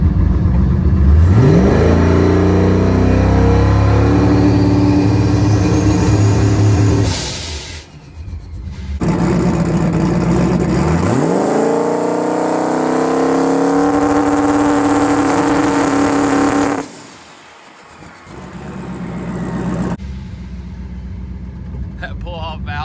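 A turbocharged Ford 4.6 2V engine with an S491 turbo revving against the transbrake inside the car, loud sustained revs rising in pitch in two long pulls separated by a brief drop, with a voice speaking over it.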